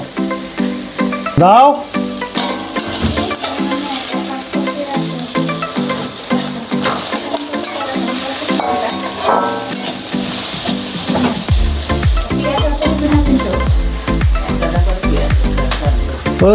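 Ginger-garlic paste and spices frying for a bhetki fish curry, a loud steady sizzle with repeated spatula scrapes and clatter against the pan throughout, growing busier and heavier toward the end.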